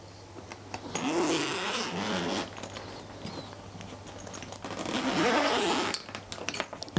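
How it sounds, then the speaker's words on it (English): A large zipper running around a medical equipment travel bag is pulled open in two long, close rasping strokes, separated by quieter handling noises. "And then there's one large zipper that goes the whole way around"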